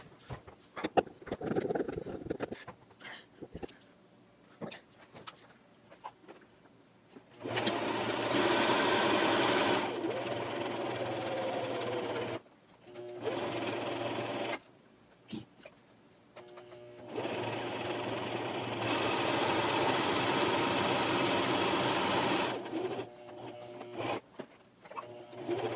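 A sewing machine runs a narrow zigzag stitch through fabric from old clothes in bursts of loud, rapid, whirring mechanical chatter, with two long runs and a shorter one separated by quiet pauses and small clicks.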